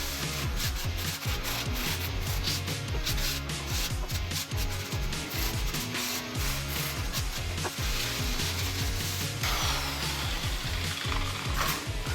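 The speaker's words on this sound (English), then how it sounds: "We'll sand all the edges" Wood edges are sanded during a Snug Bug camper build, producing a continuous, close, raspy rubbing with a rhythmic back-and-forth texture throughout, and no voices.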